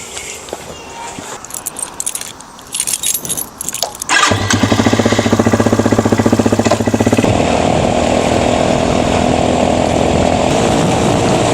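A motorcycle engine drones steadily while riding, loud and close with a buzzing rasp, preceded by a few seconds of jangling and handling noises before the ride noise takes over.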